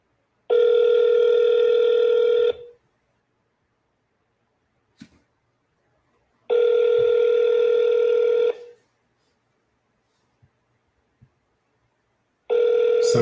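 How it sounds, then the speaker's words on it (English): Ringback tone of an outgoing telephone call on speakerphone repeats in loud two-second bursts separated by about four seconds of near silence, with a few faint clicks between them and a third burst starting at the end. "Calling now on speaker."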